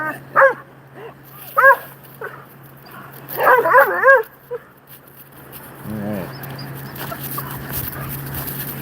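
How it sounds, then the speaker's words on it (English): A dog barks in short bursts, a few single barks then a quick flurry, with whimpering yips; a person speaks briefly near the end. "The dogs are going to bark for a second"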